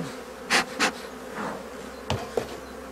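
Honeybees buzzing around an opened hive during a spring inspection, with a few louder buzzing passes close by over a low steady hum and a couple of sharp knocks near the end.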